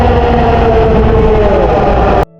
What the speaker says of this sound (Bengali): আমাদের ট্রেন চলে এসেছে, একবারে খালি